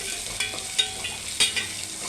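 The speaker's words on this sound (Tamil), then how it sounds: "இதெல்லாம் சேர்த்து கறிவேப்பிலாம் போட்டு வதக்கணும்" Onions sautéing with curry leaves and green and dried chillies for a brinjal-tomato curry, a close sizzle broken by a few quick stirring scrapes.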